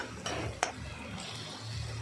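A spatula stirs homemade red masala and turmeric in a pan for a dry prawn dish, giving soft scraping with one sharp metallic clink partway through, over a low steady background hum.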